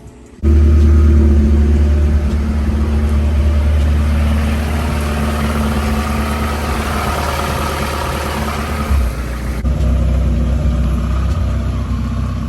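A Mazda Miata engine cranks briefly, then catches and settles into a steady, loud, close idle with a low exhaust rumble that holds throughout, wavering slightly near the end.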